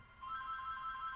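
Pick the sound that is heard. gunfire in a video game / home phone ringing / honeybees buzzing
home phone ringing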